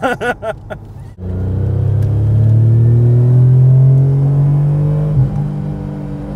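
A Mitsubishi 3000GT engine starts low and accelerates hard, its steady loud drone climbing in pitch for several seconds before a brief dip near the end, with a few words spoken just before the run-up.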